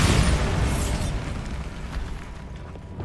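A Bombarda spell explosion in Hogwarts Legacy opens the moment with a heavy, loud blast that rolls off into a long rumbling, crackling decay and fades under light debris sounds.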